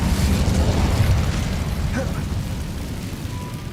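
An Incendio fire spell goes off in Hogwarts Legacy as a loud, sustained rumbling burst that slowly fades over a few seconds, and no voices are heard.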